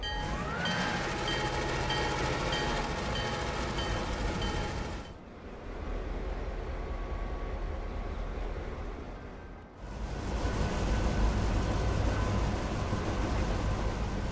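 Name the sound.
long train passing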